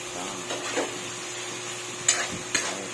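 Food being stirred in a cooking pan, with a spoon scraping softly a few times and two sharper metallic clinks near the end, all over a faint steady sizzle and hum.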